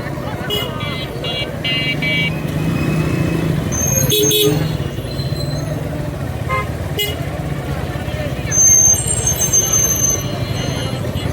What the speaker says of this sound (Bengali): এটা হচ্ছে হাইওয়ে রোড